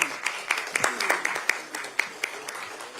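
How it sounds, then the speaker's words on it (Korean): Applause at a party leadership meeting welcoming a new supreme council member with flowers, a moderate crowd clapping with distinct individual claps audible in an irregular patter, fairly close and fading slightly toward the end. "큰 박수 부탁드립니다."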